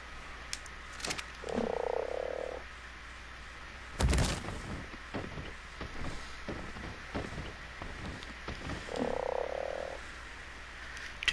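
A frog mount wearing a Mastercraft saddle croaks in a video game, two distinct deep croaks several seconds apart, with a sharp impact and scattered game sounds between them.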